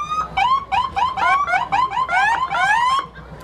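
Central Hardin fire truck siren at a parade, a loud, close electronic yelp warbling rapidly up and down for about three seconds without pause.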